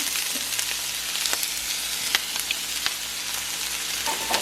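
Onion and peppers fry in a very hot skillet, giving a constant crackling sizzle with scattered sharp pops, close and alone.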